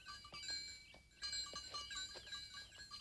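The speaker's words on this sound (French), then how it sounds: "C'est toi qui prends soin de toutes ces chèvres?" Goats bleat repeatedly in a mountain pasture, short wavering calls overlapping at moderate distance, with a faint bell-like ringing tone running through and no voices.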